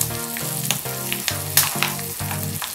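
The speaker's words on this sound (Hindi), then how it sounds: "8-10 कड़ी पत्ते, अच्छे से फ्राई कर लेते हैं।" Curry leaves and asafoetida sizzle in hot oil for a tadka to temper an instant raw mango pickle, a steady loud frying crackle with regular pulsing bursts throughout, no voices.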